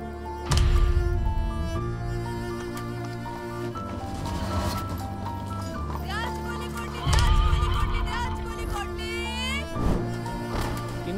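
A horse pulling a tonga cart neighs amid a film-trailer soundscape, the whinny rising briefly near the end among hoof clatter, layered under loud music and dramatic booms.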